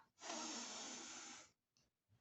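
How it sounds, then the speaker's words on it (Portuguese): A single long breath drawn through the nose, close and fairly quiet, a steady airy rush lasting over a second, followed by a short faint sniff and silence. "é possível sentir o ar passando para dentro e para fora do corpo através do nariz ou da boca"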